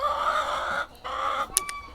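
A hen clucks up close in a drawn-out, nasal series of squawking calls that break off briefly and then resume, ending with a couple of sharp high clicks.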